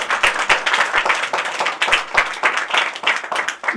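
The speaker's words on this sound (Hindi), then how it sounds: "जोरदार ताली बजाएंगे।" An audience at a religious gathering claps loudly and unevenly, a close burst of many hands that keeps up steadily throughout, with no voices over it.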